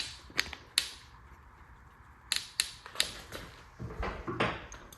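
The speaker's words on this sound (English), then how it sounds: "So I'll screw all this back in, make sure that our rockers sit down where they're supposed to be." Screwing rocker parts back onto a Ford 482 all-aluminum tunnel port engine: sharp close metallic clicks and ratcheting taps at irregular intervals, with a brief rattling stretch near the end, no talk.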